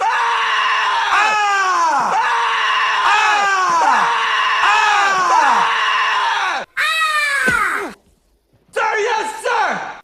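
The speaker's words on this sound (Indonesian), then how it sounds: "sersan menyuruhnya untuk teriak sekencang-kencangnya dan perlihatkan ekspresi seorang pembunuh" A soldier screams as loud as he can in a series of long, harsh, strained cries, loud and close, with a brief silent gap before a final scream.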